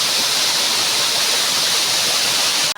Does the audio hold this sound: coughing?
no